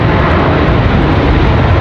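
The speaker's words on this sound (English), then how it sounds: "American A321 on the move." An American Airlines Airbus A321 taxies at an airport, its engines producing a loud, steady, broadband roar that fills the scene without a break.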